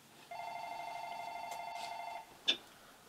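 A landline house phone gives one steady electronic ring of about two seconds, followed by a short sharp click.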